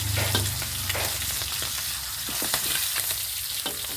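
Mackerel frying in a generous amount of fresh cooking oil, a steady close sizzle with bubbling crackle and occasional sharp pops throughout, no talking.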